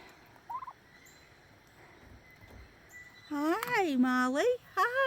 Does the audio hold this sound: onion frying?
no